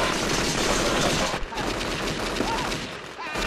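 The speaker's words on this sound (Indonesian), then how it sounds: "Mendengar suara petasan itu, Harry pun lari dan kabur terbirit-birit dari rumah itu." A loud, dense barrage of firecrackers popping and crackling nonstop, rapid overlapping bangs with a brief dip in the middle.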